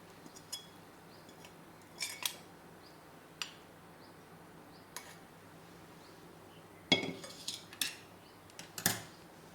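A utensil mixes mango tempering into rice for mango pulihora, producing scattered metallic clinks and scrapes against the vessel, some single and some in quick clusters, over a quiet background.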